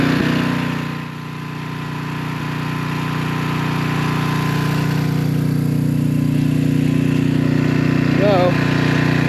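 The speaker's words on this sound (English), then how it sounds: "got the generator going." A portable generator runs at a steady low drone outside during an ice storm power outage, continuous and fairly close, with a brief voice near the end.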